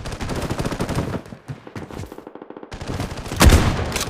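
Gunfire from a team shooter in Bloodstrike, with a pump-action M1887 shotgun in play, bursts out in rapid close volleys that peak in a loud blast near the end, mixed with game sound effects.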